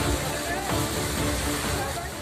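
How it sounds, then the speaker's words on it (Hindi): Kempty Falls, a mountain waterfall swollen by heavy rain, roars in a dense, steady wash of rushing water, loud and close throughout the short stretch. "असल में पहाड़ों पर हो रही भारी बारिश की वजह से कैंपटी फॉल रौद्र रूप में दिख रहा है।"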